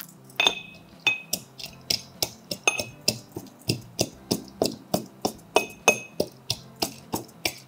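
Spices being pounded in a mortar for mutton dum biryani masala: a long run of sharp, evenly spaced strikes, about three per second, each with a hard clinking knock and a brief ring, close and with no talking.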